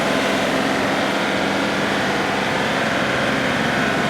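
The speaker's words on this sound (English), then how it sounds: "Let's just go straight to wide open throttle." A compact tractor engine, Kubota LX3310 or Deere 2038R, held at wide open throttle during a hydraulic flow test, giving a loud, steady, unbroken roar close by.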